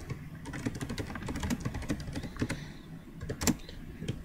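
Someone types on a computer keyboard while adding text in Avery labeling software, a close, quiet run of irregular key clicks with a few louder taps, alone with no talk.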